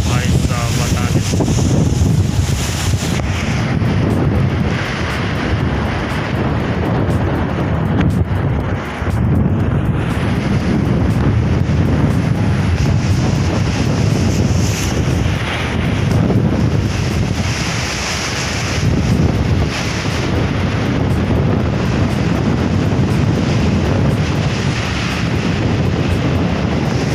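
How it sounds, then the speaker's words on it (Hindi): Fast-flowing sea water rushing at the Alang ship beaching site in India, a continuous broad roar of surf and current mixed with heavy wind buffeting on the microphone, with faint voices in the background. "देखो पानी बहुत तेज है, रफ्तार देखो यार"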